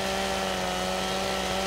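Chainsaw in the Farming Simulator 2015 video game trimming the last bit off a felled tree, a steady droning engine buzz that runs loud and unbroken, alone.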